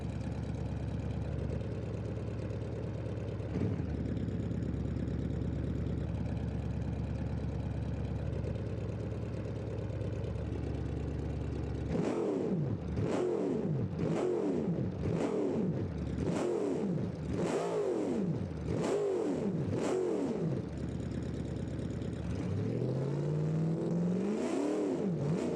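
A game burnout car in BeamNG idles with a steady low rumble, then revs hard in a series of about seven or eight sharp, rhythmic throttle blips before settling into a rising rev at the end; loud and close, with no talking.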